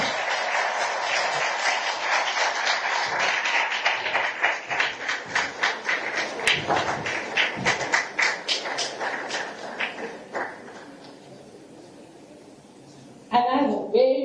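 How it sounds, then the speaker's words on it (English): An audience at a children's climate summit in Addis Ababa applauds, the clapping dense and steady at first, then thinning into separate claps that fade away before a voice speaks at the end. "Another very, very big round of applause."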